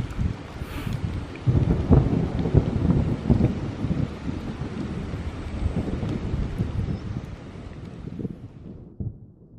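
Heavy rain pours down in a steady roar on a riverside fishing trip in the mountains. Deep rumbles of thunder roll through it, and wind buffets the microphone before the rain fades toward the end.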